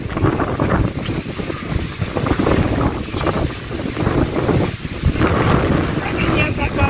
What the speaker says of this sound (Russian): ближе к морю, тем больше ветер